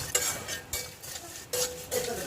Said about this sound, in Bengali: আবার ওই সাদা চিড়েগুলোকে দিয়ে গ্যাস কমিয়ে বেশ কিছুক্ষণ নাড়াচাড়া করব।